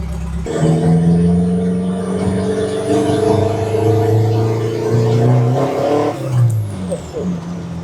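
A car with an engine fault runs loudly and close by, its harmonic roar rising and falling as the revs swell and drop over several seconds.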